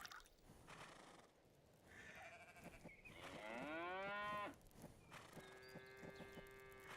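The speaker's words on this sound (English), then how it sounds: "Moo to you too, Mr. Cow." Cow mooing in the farming video game Farmer's Life, one long drawn-out low moo followed by a second tonal call, faint, with small clicks around it.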